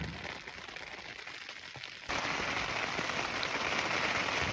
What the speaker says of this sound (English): It's not hard yet. It's rain.